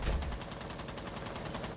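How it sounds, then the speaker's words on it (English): Automatic gunfire in Rainbow Six Siege during a college esports match, a steady rapid rattle of shots sounding somewhat distant and continuous throughout. "we already hear some gunfire somewhere"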